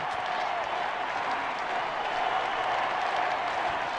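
Crowd noise from a baseball stadium in the video game MLB 06 The Show, a steady, dense roar with scattered clapping that holds at an even level throughout, with no gaps.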